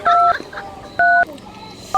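Telephone dialing tones on a phone, three short steady dual-pitch beeps spaced unevenly, loud and close, with faint background sounds between them.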